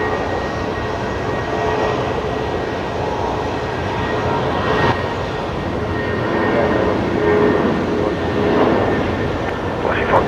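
Jetstar airliner rolling for departure at Brisbane Airport at night, a steady broad engine roar swelling slightly toward the end, heard at a distance with no clear voices.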